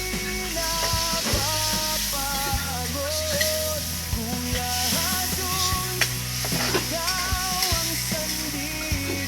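Pansit noodles with cabbage sizzle and are stirred in a pan for a breakfast meal, making continuous close frying crackle and scraping stirs over a steady tonal background sound, with no clear talking.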